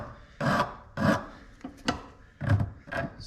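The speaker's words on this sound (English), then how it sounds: "you want to dress up these threads so that the nut goes on and off nice and easy" A file rasps across the threaded fork tube of a 2006 KDX 200 during a rebuild, dressing off burrs in five or six separate strokes with short pauses between, close and fairly loud with no talking.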